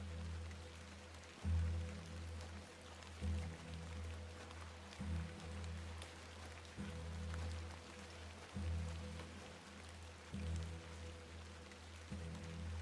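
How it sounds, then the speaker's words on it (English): Steady rain falls and patters on a surface outdoors, a continuous wash of drops heard with a low rumbling undertone and a few heavier pulses recurring every couple of seconds; no one speaks. "Let's get out of the rain."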